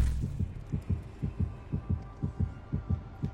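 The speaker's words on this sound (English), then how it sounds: "Yeah, there's a heartbeat and 5 gens." In the video game Dead by Daylight, the killer's heartbeat throbs as a steady run of about a dozen deep, doubled thumps. It plays close and clear with no talk over it.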